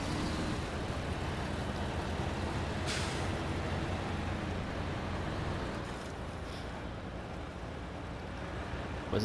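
A heavy truck towing a trailer reverses in SnowRunner, a steady loud diesel drone with grinding, whining strain throughout, plus a couple of brief hissing bursts like air releases.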